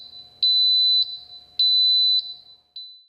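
A workshop dust collector beeps its full-bin alarm: two long, shrill high-pitched tones followed by a short third beep, loud and steady against a quiet background with a faint low hum.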